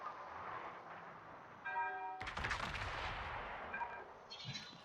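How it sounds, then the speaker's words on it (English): Warship broadside gunfire in World of Warships, a game naval battle: a tonal alarm-like cue, then a loud booming salvo with a crackling tail, followed by smaller shell bursts and chimes. "I'm going to get a broadside shot on the Drake"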